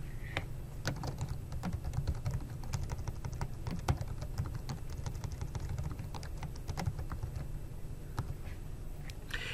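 Steady typing on a computer keyboard while a project name is entered during setup of a two-layer PCB project in Altium, with a continuous run of close, crisp key clicks and a few louder taps.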